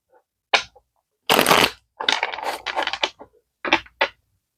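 A deck of playing cards being shuffled during a tarot-style reading, several short riffling bursts with pauses between, close and crisp, with no voices.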